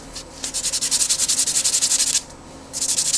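Sandpaper rubs rapidly back and forth over a surface in quick, even strokes, a close, hissing scrub of about eighteen passes, a short pause, then the strokes start again.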